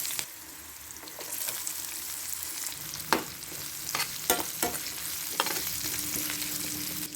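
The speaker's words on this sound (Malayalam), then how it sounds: "ഇതിൽ അരിഞ്ഞച്ച സവാളയും ഇഞ്ചി പച്ചളവും പേസ്റ്റും കൂടി ഇടും" Sliced onion with ginger-garlic paste sautéing in a pan with fried fish and green chillies: a steady hot sizzle with several sharp clinks and scrapes of stirring, and no talk.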